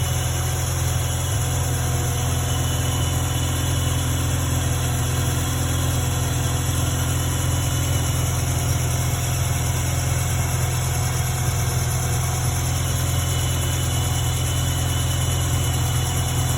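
A car fitted with a Racing Beat double pulley belt system idles after a coolant air bleed, a loud, steady, even engine drone with a deep low hum that holds unchanged throughout.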